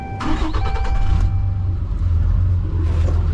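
A Cummins 6.7 diesel pickup truck engine cranks and fires, with a brief starter whine before settling into a loud, close, steady rumbling idle.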